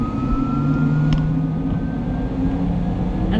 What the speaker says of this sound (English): Starting. Ooh, it sounds like a jet.